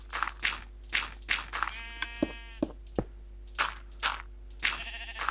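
Minecraft sheep bleat several times in a repeating, wavering rhythm, moderately close, with soft blocky footstep thuds mixed between the calls.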